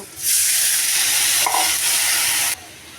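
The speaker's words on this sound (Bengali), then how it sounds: "এখন আমি মশলা বাটা দিয়ে দেব মশলাগুলি ভালো করে কষায় নেব" Ground spice paste sizzles loudly as it is stirred into a pan of fried onions, a sudden burst of hissing frying that holds for about two seconds, then drops off sharply.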